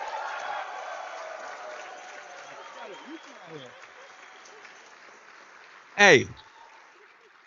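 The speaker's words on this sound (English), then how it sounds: "can we give him another round of applause?" Applause and crowd noise fill a startup demo day session steadily, with a voice calling out briefly near the end.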